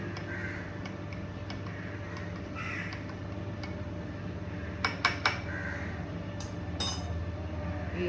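Metal spoon stirring sugar-free chai in a cup, a few quick bright clinks in short clusters over a steady low background hum.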